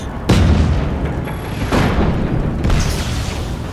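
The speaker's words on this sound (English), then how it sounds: "We love explosions," Loud booming explosions from Just Cause 3 gameplay, three heavy blasts spaced about a second apart, each a sudden broadband burst with rumbling decay and no talk over them.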